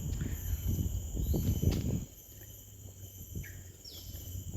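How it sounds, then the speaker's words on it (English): Faint insects and a few bird calls in open outdoor air at Sungei Buloh Wetland Reserve, Singapore, with soft footsteps crunching early on before a quieter stretch. "All I hear are birds and insects."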